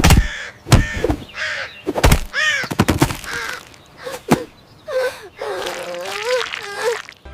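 A cartoon crow caws in a Bengali 2D animated moral story, giving a series of harsh, close caws broken by short gasping, wheezy sounds.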